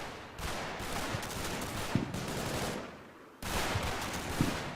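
Gunfire crackles through a firefight in the video game Combat Mission: Battle for Normandy, with bursts of rapid machine-gun fire and single shots coming in two long volleys separated by a brief lull.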